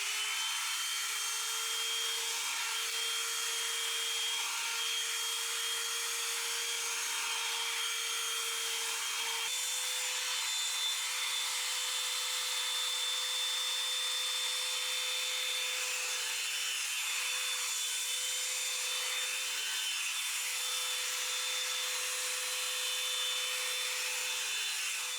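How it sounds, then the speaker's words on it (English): Hair dryer blows steadily close by while hair is drawn through a Revlon round brush, a continuous whirring hum with faint rubbing of bristles and no talk. "I feel like a round brush is like blow drying the hair is the best way to get like a nice sleek straight look."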